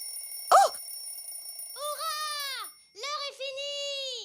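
Cartoon kitchen alarm clock going off: a short sharp burst followed by two long warbling, bell-like ringing phrases, loud and clear with no talk over them.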